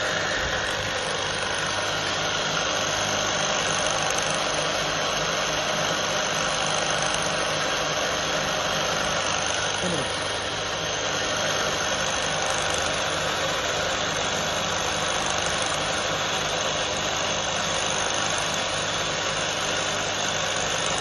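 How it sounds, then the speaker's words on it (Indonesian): A gear pump runs continuously at steady speed during a vibration check, producing a loud, unbroken mechanical drone and hum with no breaks. "Setelah mesin dihidupkan, kita akan mengecek getaran pada mesin gear pump."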